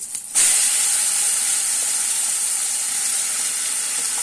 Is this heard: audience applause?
no